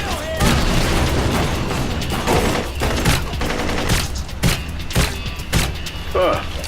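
Gunshots in the video game Blue Estate: heavy, repeated blasts and booms at irregular intervals, loud and close, mixed with mechanical clatter and game dialogue.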